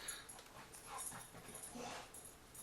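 Dog whimpering faintly in a room, soft high whines and breathy sounds at a distance, low in level with no talk.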